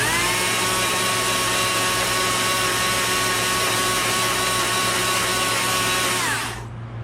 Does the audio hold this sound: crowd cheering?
no